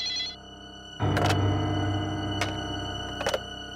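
A telephone rings with a bright electronic trill, breaking off and sounding again in short bursts over a low steady hum, close and fairly loud.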